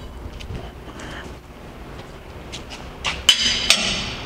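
A metal wrench set down on the magnetic chuck of a 42-inch Blanchard rotary surface grinder, giving two sharp clanks near the end over a steady shop hum.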